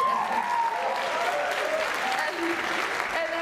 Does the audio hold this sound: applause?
yes